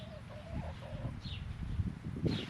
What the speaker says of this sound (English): Got the chickens over there making all kinds of noise.